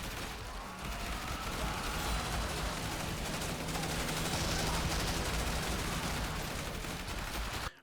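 Maxed-out minigun in a zombie survivors video game, a dense continuous stream of rapid gunfire with overlapping blasts, loud and unbroken for several seconds before cutting off abruptly.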